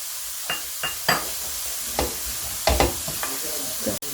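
Kashmiri chilli powder and black pepper powder fry in a pan for Kerala-style beef pollichathu, a soft sizzle under sharp spoon scrapes and knocks against the pan at an irregular pace.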